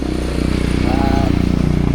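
A motorcycle engine runs steadily nearby at an even, throbbing idle on an evening visit to a cousin, loud and continuous, with voices talking over it.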